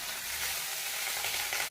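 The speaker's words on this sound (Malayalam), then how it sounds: "അപ്പൊ ചട്ടി ചൂടായി ബട്ടർ ഇട്ട് കൊടുക്കാം." Butter sizzles in a hot pan while corn cheese cream is started, a bright, continuous close-up hiss with no talking.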